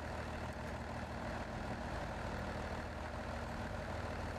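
A heavily modded OBS 3500 Crew truck engine in SnowRunner, a steady low rumbling drone with no breaks, heard alone at a fairly low level.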